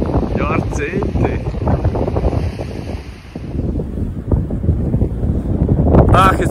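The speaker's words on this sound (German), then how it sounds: "Ach, es windet" Strong wind buffeting the microphone on the Maremma coast in Tuscany, a loud continuous rushing roar that swells and dips, with someone speaking briefly over it.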